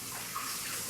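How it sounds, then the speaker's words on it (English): Water from a running tap splashes steadily as hands are rinsed of pumpkin seed pulp, a brief close, even gush. "I'm just going to go rinse my hands here."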